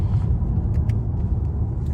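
Exhaust note of a stock 2003 Mercedes E55 AMG sedan on the road: a steady, deep engine rumble and drone fills the whole stretch, loud and close, with no talking.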